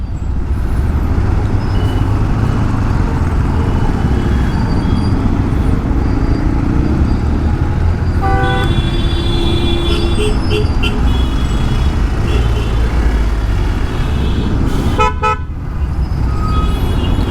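Car and vehicle horns honk repeatedly in dense city traffic with no bike lane, loud over constant engine rumble, with short toots around the middle and a sharper blast near the end.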